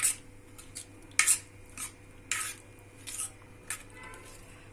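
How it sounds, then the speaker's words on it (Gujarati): A spoon scraping and clinking against a pot while mango pickle is mixed with spice masala, giving a few sharp irregular taps and scrapes with quiet gaps between them, close and fairly soft. "જુઓ આને આપણે સારી રીતે મિક્સ કરી દઈશું"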